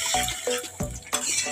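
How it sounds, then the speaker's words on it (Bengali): Clattering and scraping in a cooking pot of potato and chickpea curry as water goes in, with several close metallic knocks and a brief splash. "এবারে জল দিয়ে দিব"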